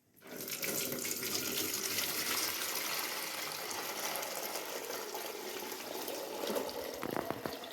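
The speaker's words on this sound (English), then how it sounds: "I'm going to sieve my milk." Milk for homemade yogurt pours steadily through a sieve, a continuous liquid splashing and trickling that runs close and loud for the whole stretch, with a few clinks near the end and no talking.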